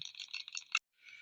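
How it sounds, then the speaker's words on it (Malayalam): Mustard seeds popping in hot coconut oil: rapid, dense, sizzling crackling and popping, stopping abruptly before a softer hiss resumes. "ഇപ്പൊ നമ്മുടെ കടു പൊട്ടുന്നുണ്ട്"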